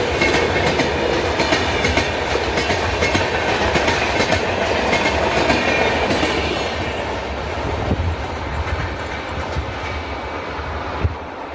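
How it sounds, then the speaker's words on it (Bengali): Passenger train 18416 Puri Barbil Express rolling past close by, a loud continuous rumble with rhythmic clickety-clack of wheels over rail joints, easing slightly toward the end. "এখন এই যে ট্রেনটি পেরিয়ে যাচ্ছে, train number 18416 Puri Barbil express"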